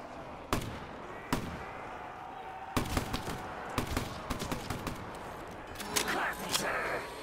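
Gunfire in a Black Ops 3 Zombies match: scattered sharp shots early, then a denser run of repeated bursts from a shotgun or sniper rifle over game noise, with a voice talking now and then.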